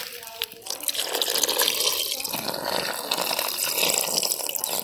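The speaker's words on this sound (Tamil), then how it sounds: "தேவையான அளவுக்கு தண்ணியை ஊற்று." Steady splashing and trickling of water poured into a bowl of garlic-paste batter for cauliflower and mushroom 65 fry, continuous and close, with faint background voices.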